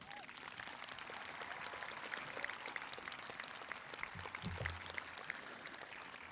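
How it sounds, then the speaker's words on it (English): A 2023 Sparta High School graduation crowd claps for band and chorus students in steady, even applause that sounds distant and fairly faint. "would everyone please join me in a big round of applause for our non-graduating students"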